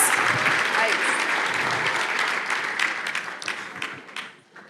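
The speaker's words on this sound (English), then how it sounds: "Let's give them a round of applause." A crowd applauds loudly and steadily for several seconds before the clapping thins out and fades, with voices mixed in.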